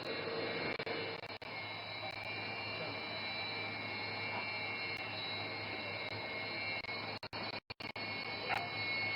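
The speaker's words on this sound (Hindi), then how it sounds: "the aircraft is now opening full power" A fighter jet opening to full power for takeoff at an emergency landing strip on a highway bypass in Dibrugarh, heard as a steady, loud, broad roar with a high whine that holds throughout, with brief dropouts near the end.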